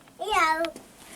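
A one-year-old baby imitates a cat's meow with a single short, rising-then-falling vocal mew, close and clear.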